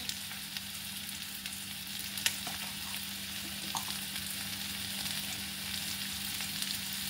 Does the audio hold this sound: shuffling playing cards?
no